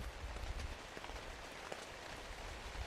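Rain falls steadily outdoors, a dense, even patter of drops on surfaces with faint scattered taps, soft and continuous throughout, with no voices.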